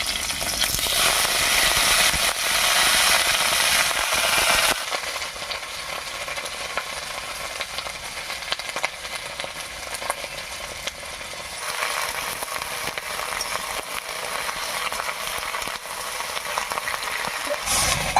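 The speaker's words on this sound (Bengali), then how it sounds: "ফোড়নের উপরে বাঁধাকপিটা দিয়ে একটু নাড়িয়ে নিয়েছি" Shredded cabbage stir-frying in a pan over panch phoron tempering spices and slit green chillies, a loud steady sizzle that continues throughout, with occasional scrape and stir sounds and no talking.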